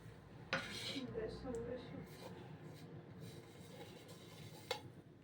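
Pennywort leaves being worked into fritter batter in a bowl, giving soft wet squelching and faint scraping with occasional light clinks against the bowl, while a voice talks over it.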